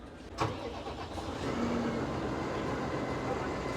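A 2024-model 210 hp tractor engine turns over with a brief cranking burst and then settles into a steady, low mid-pitched idle rumble that carries on to the end.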